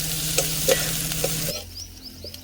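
Fenugreek leaves cooking in a pan over low heat give a steady close sizzle with soft stirring scrapes and clicks, the sizzle quieting partway through.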